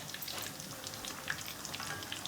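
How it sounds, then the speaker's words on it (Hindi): Food frying in hot oil in a home kitchen, a steady crackling sizzle with scattered pops throughout, no talking. "इसके बाद मैं दूसरे भी डाल दूँगी इसके अंदर और उनको फ्राई करती हूँ"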